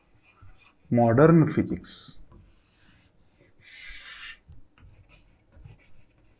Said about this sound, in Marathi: आणि हा वर लिहितोय मी